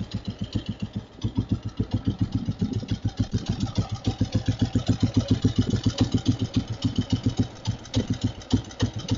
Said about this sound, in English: Idling nicely.